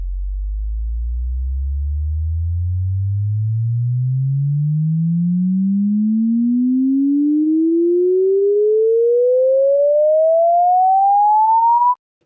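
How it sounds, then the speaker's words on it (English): A pure sine tone generated in Audacity sweeps smoothly upward from a low hum to a high whistle over about twelve seconds, steady and loud, then cuts off. "So there we go, we have a rising sine wave."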